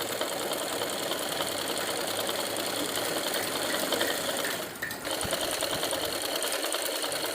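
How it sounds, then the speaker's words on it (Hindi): Sewing machine running continuously while stitching the seams of a child's frock, a fast, even mechanical whir with rhythmic needle clatter, close and steady, with a brief dip near the end. "हम अपने आसन पर सिलाई लगाएंगे।"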